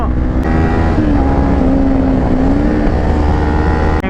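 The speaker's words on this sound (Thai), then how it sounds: "วันนี้เรามาลองเทสดูนินจาสิบร้อยว่าอัตราเร่งมันเป็นยังไงนะครับ" Kawasaki Ninja 400 two-cylinder motorcycle accelerating hard, a loud, close, sustained engine whine rising and shifting in pitch, with a brief gear change, alone with no talk.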